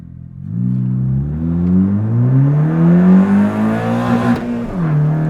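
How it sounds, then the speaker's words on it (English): A Honda Fit carrying a swapped K24 engine revs hard against its rev limiter, the loud, close engine note climbing steadily for several seconds, then bouncing off the limiter and dropping back. "That was against the rev limiter."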